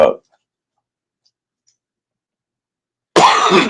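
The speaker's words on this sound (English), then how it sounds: "I know I got a cough" A single sharp cough from a man, close and loud at the very start, followed by silence before he starts talking again.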